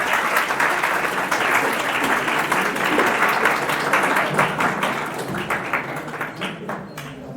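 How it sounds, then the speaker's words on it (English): An audience at a speech competition applauds a guest with dense, steady clapping that stays loud and then gradually tapers into scattered claps. "So please, big round of applause for Mr."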